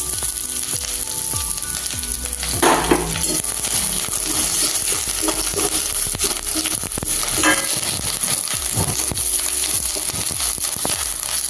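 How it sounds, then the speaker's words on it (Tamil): Curry leaves sizzling and crackling in hot oil in a pan while being stirred, a continuous loud fry with scattered sharp pops and a few metallic scrapes of the spoon. "முதல்ல கருவேப்பிலையை எண்ணெயில் ஒரு கிண்டிக்கிறோம்"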